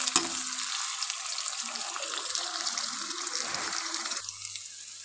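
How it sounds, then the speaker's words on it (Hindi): Onions and garlic paste fry in a pan with a continuous soft sizzle and bubbling hiss. It runs steadily at moderate loudness under faint background hum, with no talking over it. "ये देखिए प्याज है गोल्डन फ्राई हो रहा है"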